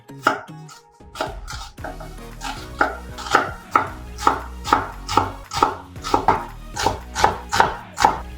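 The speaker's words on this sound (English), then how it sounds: "We'll also chop this onion into a very small pieces." A knife chops an onion into small pieces on a cutting board, about a dozen crisp, evenly paced strikes that grow steadier and louder, close and alone.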